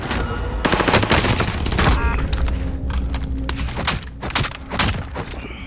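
Heavy gunfire in the video game Call of Duty: Modern Warfare Warzone in a resurgence duos match: loud, close automatic bursts and single cracks repeat in clusters, with thuds between them and occasional game tones underneath.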